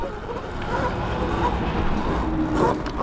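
Surron Light Bee electric dirt bike at full throttle climbing a short singletrack hill, a steady loud broadband whine and rushing noise running throughout without a break.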